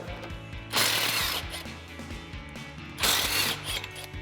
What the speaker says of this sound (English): So we'll get our 2 upper bolts out first with our 13mm socket